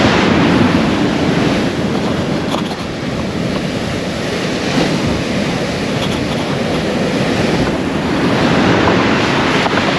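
Huge sea waves break on a beach at Aldborough on the Holderness Coast, UK, in a steady loud roar of surf with wind buffeting the microphone throughout and no voices.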